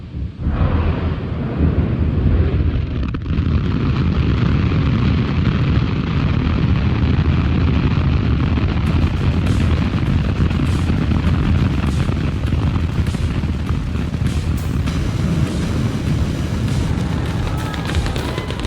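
Deafening, continuous roar of a SpaceX Starship rocket at engine ignition and liftoff, dense broadband thunder that holds steady and grows rougher and crackling as the vehicle climbs, close and overpowering throughout.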